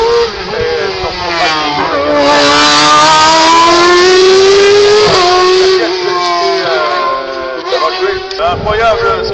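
A hill climb race car fitted with a new BMW engine accelerates hard, its loud engine note climbing and holding steady with a brief gear change midway, close and continuous throughout.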